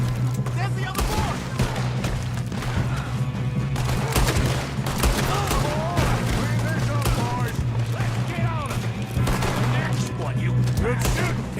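Rapid gunfire from a shootout in Red Dead Redemption 2, with repeated shots and bursts cracking throughout over steady game noise, while voices speak intermittently underneath.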